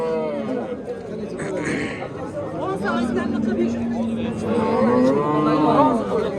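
A cow moos loudly with a long drawn-out low call, nearby, at a busy livestock market in Uzbekistan while people chatter in the background.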